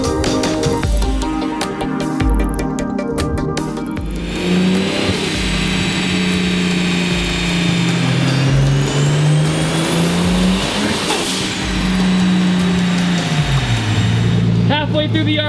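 A 2JZ-swapped Nissan 240SX roars on a dyno, its engine climbing through a long, loud rising rev before dropping back, with voices talking over the run.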